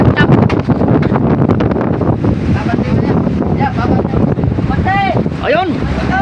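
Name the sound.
wind and big waves at sea on a boat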